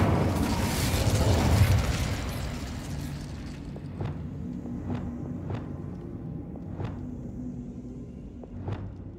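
Incendio fire spell in Hogwarts Legacy: a loud whooshing, roaring blast that fades over a few seconds, followed by several sharp crackling pops spaced apart.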